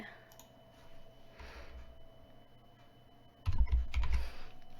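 Short cluster of computer keyboard key presses, a quick Ctrl+C then Ctrl+V copy-and-paste, close and clicky after a few seconds of quiet room hum.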